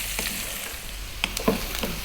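Potatoes and onion sizzle steadily in a pan, with a few sharp scrapes and clicks from stirring partway through.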